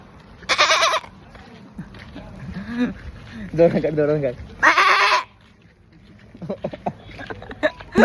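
A person mimics a goat's bleat with several loud, wavering cries, mixed with laughter and talking from others nearby.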